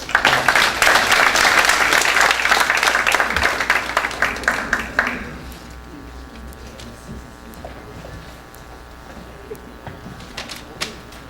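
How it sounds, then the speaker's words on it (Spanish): A lecture audience at a conference on numerical modelling applauds to welcome a speaker, loud dense clapping for about five seconds, then dropping to a quiet room with a steady hum and a few stray claps. "Un aplauso para él para recibirlo, por favor."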